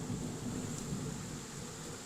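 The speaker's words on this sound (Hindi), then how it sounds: "अब दोस्तों हम लोग बारिश थमने का इंतज़ार करेंगे।" Steady heavy rain with a low thunder rumble outside a cave where a sage lives, a continuous loud wash with no voices.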